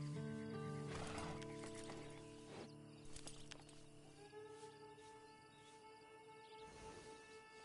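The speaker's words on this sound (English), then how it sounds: "Then you better get on this horse." Horse in the video game Red Dead Online letting out a whinny amid game music and ambience, followed by hoof clatter and faint background effects, quiet overall.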